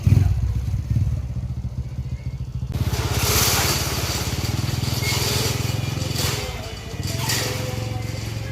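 A Honda Wave100 motorcycle, refitted with its original carburetor, runs with a close, chugging single-cylinder engine note that swells as it revs and pulls away.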